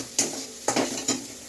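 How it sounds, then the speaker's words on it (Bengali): Greens hit hot oil in a wok with three sharp sizzling bursts, each fading into a steady fry with faint stirring and clinks of a utensil against the pan. "এবার শাক ভাজা হচ্ছে, এই কড়াই তেল দেওয়া হচ্ছে"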